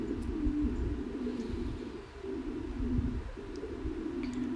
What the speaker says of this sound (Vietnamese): Anh em có thể thấy là những cái cặp bồ câu ở trại mình cũng rất là to này